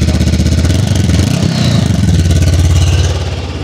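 A Honda CB500 Hornet motorcycle engine, started from cold, is revved loudly up close with a throbbing, pulsing exhaust note that holds steady, then eases slightly at the end.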